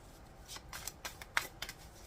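Tarot cards being shuffled by hand during a reading, a soft series of crisp riffling flicks and slaps at an irregular rhythm, close and fairly quiet, with no talking.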